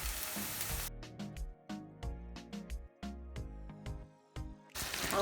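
Onion and tomato fry in a pan for Colombian ahogado sauce, with a brief sizzle at the start and again at the end, separated by a stretch of plucked, tuneful music.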